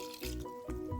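Organic coconut milk glugs and splashes as it is poured over squash in a pot, a short wet pour with dripping and liquid slosh, close and fairly quiet.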